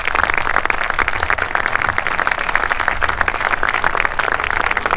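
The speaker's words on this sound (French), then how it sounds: "Je voudrais qu'on les applaudisse" Loud, sustained applause from an audience of rally crews at a rallye debriefing in Aumale, clapping for the event's partners; dense, even hand-clapping fills the whole stretch with no speech over it.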